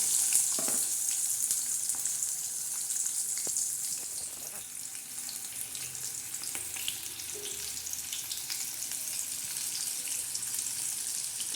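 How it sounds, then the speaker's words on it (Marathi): Onion frying in hot oil while a spicy Maharashtrian usal is being cooked, a steady soft hiss of sizzling with faint scraping of a spoon, alone without talk. "तेल टाकल्यावर आता आपण कांदा टाकणार आहोत"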